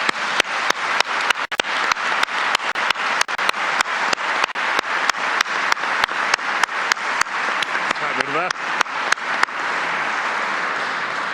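Audience applause for Mario Vargas Llosa, a thick continuous roll of many hands in a hall, with sharp close claps standing out in a quick pulse before settling into a steady wash.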